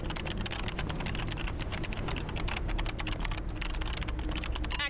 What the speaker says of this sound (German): Einfach nur, weil ich das Geräusch vom Tippen mag.